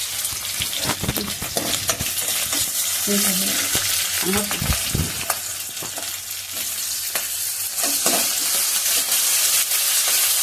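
Ginger, green chili and chicken frying together in a pan, a loud hissing sizzle with frequent scraping stirs and popping spatters, close up and continuous, with no one talking.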